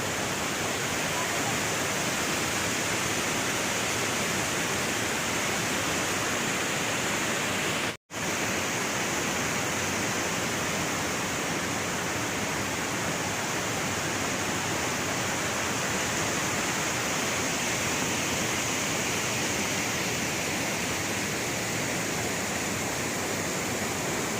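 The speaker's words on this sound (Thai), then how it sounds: "ก็จะคงเป็นอีกชั้นหนึ่งของน้ำตกตาดกวางีซึ่งอยู่ในเขตของ" Tat Kuang Si waterfall in Luang Prabang, Laos roars as a loud, steady broadband rush of falling water, continuous throughout with one very brief dropout, and no talking.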